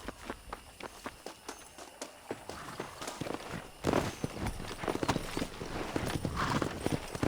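Horse hooves clip-clopping on a ride in the video game Red Dead Redemption, a steady walking rhythm of near, distinct hoofbeats that grows busier and louder as the pace picks up toward a run.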